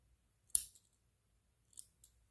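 Scissors snipping crochet yarn at the end of a stretchy crochet sock, one crisp close cut followed by two softer snips, all in near silence.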